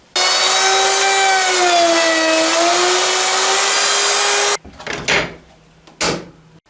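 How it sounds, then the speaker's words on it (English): A router fitted with a 45-degree bit cuts angled edges on a clamped wooden hammer head, giving a loud, steady high-pitched whine for several seconds that stops abruptly, followed by a few scraping and knocking handling sounds. "I can use a 45-degree router bit to angle off the sides and the edges"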